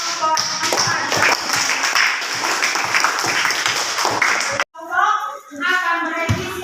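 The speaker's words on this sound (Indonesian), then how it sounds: "Ya, tepuk tangan untuk kelompok" Classroom of students clapping for a presenting group, a brisk, fairly loud burst of hand claps that cuts off sharply, followed by a voice speaking.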